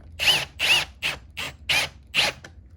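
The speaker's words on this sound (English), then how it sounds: "Now I'll use my 1/2 inch socket with a driver again." A driver fitted with a 1/2 inch socket tightens a bolt on a drill saddle in six short, evenly spaced bursts of whirring and ratcheting, close and fairly loud, with no speech.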